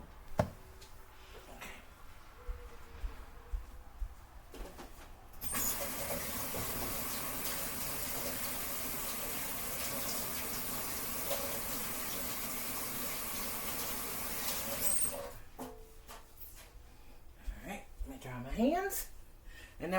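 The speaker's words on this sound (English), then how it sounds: "So let me wash my hands real quick" Tap water runs steadily for about ten seconds while hands are washed at a home kitchen sink, a broadband gush that starts abruptly and stops, with quieter kitchen clatter and faint talk on either side.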